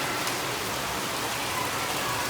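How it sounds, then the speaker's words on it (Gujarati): Heavy rain pours outside at night, a dense, steady hiss of drops that stays loud and unbroken throughout, with nobody speaking. "અત્યારે વાગ્યા છે 9 અને બહાર આવે છે જોરદારનો વરસાદ"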